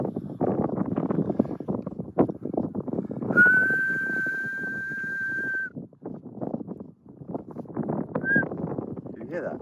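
A person whistles to call fairies at the Singing Barrows near Weymouth, holding one long steady high note for a couple of seconds, with a brief second whistle later, over wind buffeting and people talking outdoors.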